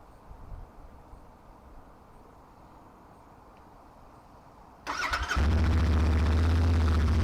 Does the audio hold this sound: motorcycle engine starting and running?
yes